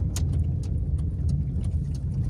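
A car pulling out onto a road, its engine a steady low rumble close inside the cabin with faint ticking over it and no talk.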